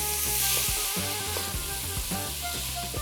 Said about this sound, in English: You must always hear the sizzling when you're dealing with onions